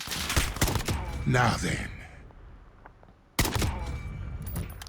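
SKS rifle fire in Call of Duty Modern Warfare: a quick cluster of loud, close shots at the start and another burst near the end, with someone speaking briefly between them.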